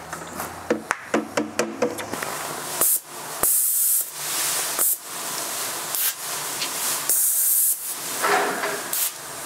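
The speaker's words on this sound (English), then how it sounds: "We can throw our Scuf-X in the hopper and spray this little window." A spray gun with a hopper sprays Scuf-X coating onto a small window, giving loud bursts of hissing spray that start and stop repeatedly, with a few sharp clicks at the start.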